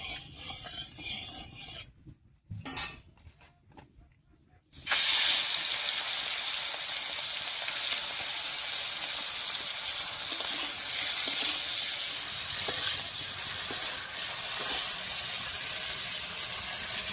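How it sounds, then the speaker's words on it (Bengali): Prawns frying in mustard oil in a wok: after a few short clatters and pauses, a loud, steady sizzling hiss starts close up and holds without talk. "এবার কড়াইয়ে সর্ষের তেল দিয়ে মাছগুলো ভেজে নিচ্ছি।"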